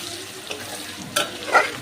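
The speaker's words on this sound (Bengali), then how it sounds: "পেঁয়াজ দেওয়ার পরে পেঁয়াজগুলো একটু ভালো করে ভেজে নিতে হবে।" Chopped onions frying in a pan, a soft continuous sizzle with a couple of louder stirring scrapes toward the end, close and clear, without any talking.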